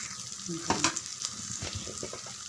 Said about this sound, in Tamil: நல்லா கலந்து விட்டாச்சு. தீ குறைவாக வச்சுடுங்க, சிம்மில் வச்சுடுங்க.